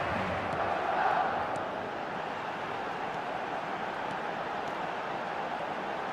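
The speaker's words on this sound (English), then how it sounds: "The crowd are calling for this to be put to bed." Steady stadium crowd roar from a football video game, a constant, moderately quiet wash of many voices that swells slightly near the start and then holds level throughout.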